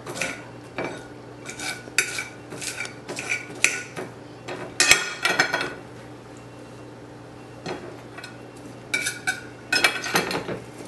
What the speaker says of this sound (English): Lettuce. Just slicing some more right quick.